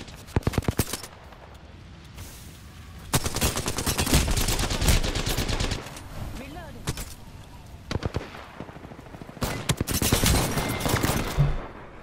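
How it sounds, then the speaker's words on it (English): Gunfire in the Apex Legends video game, with sharp bursts of automatic fire and separate single shots that come in clusters over a dense game soundscape, some close and loud, others more distant, while a person talks. "Do not go towards the shooting."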